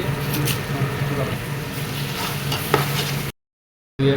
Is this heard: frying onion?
yes